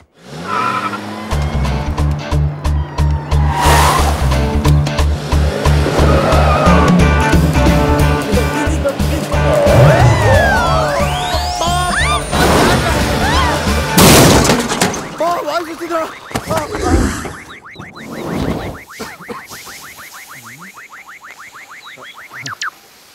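A car in an action film scene skids with squealing tires and a rising engine roar, then crashes loudly with a burst of impacts and clattering debris, while dramatic music and voices play over it.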